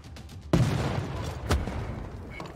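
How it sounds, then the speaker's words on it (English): An artillery bombardment in Civilization VI, with a sudden booming blast followed by a rumbling roll and a second sharp impact a second later, loud and close. "Let the bombardment recommence!"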